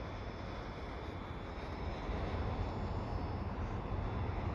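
A CN freight train in winter passing beneath highway ramps at Dorval, its broad steady rumble and rolling wheel noise heard from a distance, constant and fairly faint throughout.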